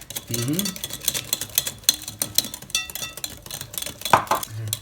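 A utensil stirs yogurt into coconut cake batter in a bowl, with soft scraping strokes and occasional light clinks against the bowl, with a voice speaking between the sounds.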